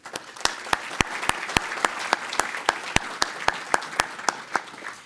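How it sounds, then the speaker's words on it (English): Applause at an awards gathering, a smaller audience clapping with distinct, evenly spaced individual claps standing out over a soft crowd wash, steady throughout with no talk. "So a round of applause to you."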